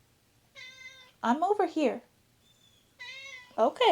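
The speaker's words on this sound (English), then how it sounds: "If you hear meowing, my geriatric cat is down here." An old, elderly house cat meows indoors, two drawn-out, rising wails close by, alternating with a person speaking briefly to it.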